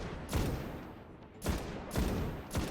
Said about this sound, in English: I'm going to take care of the hobgoblins with sniper rifle ammo just because I have it.